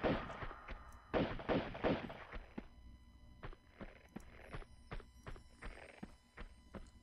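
Pistol shots in Tomb Raider II, a string of sharp cracks of varying loudness that are loudest in the first two seconds, then come as fainter, spaced shots over quiet game ambience.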